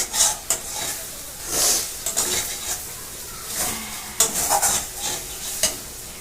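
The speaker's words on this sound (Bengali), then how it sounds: "আস্তে আস্তে কষাতে হবে।" Spicy food being sautéed in a pan, a steady sizzle with repeated scraping and stirring strokes of a utensil against the pan, close and fairly loud, with no talking.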